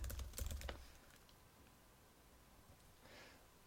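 Quiet clicks of a computer keyboard, a quick flurry of keystrokes at first, then sparse faint taps, in a podcast studio setting.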